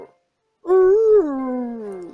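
A person's voice imitates a dog, giving one drawn-out, rising then falling howl-like whine that is loud and close, after a brief silence.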